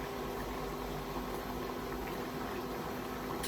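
Ma po tofu sauce simmering and reducing in a pan, a soft steady bubbling and hiss, faint and continuous with no talk.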